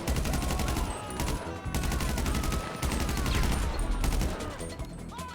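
Sustained gunfire from GTA 5 Online survival mode: dense, overlapping shots and automatic bursts crackle almost without pause for over five seconds, loud and close.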